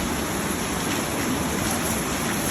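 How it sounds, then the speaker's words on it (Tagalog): Steady rain pours down on a farm, a dense, continuous broadband hiss with no breaks, fairly loud and close, with no talking over it. "Okay. Ulan na."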